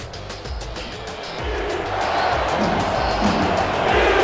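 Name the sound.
boisterous crowd at a football game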